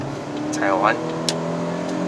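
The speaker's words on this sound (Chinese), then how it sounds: "你看换挡了，换挡了。" A 2022 Proton Persona 1.6 with a CVT climbing toward Genting hums steadily inside the cabin, its engine note dipping and rising once in a quick gear-change sweep before settling back into an even drone.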